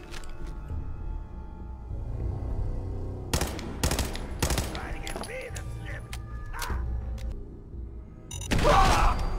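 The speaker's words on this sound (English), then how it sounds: "Let's take a couple quick pot shots at these fools." Gunshots in Fallout 4, several sharp cracks spaced a second or so apart over a low ambient rumble, with mechanical clicks between and a louder burst near the end.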